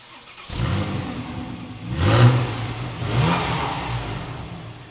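A Porsche 911 engine cranks and catches, then settles into a loud mid-pitched running sound with two rising revs, close up and with no talk.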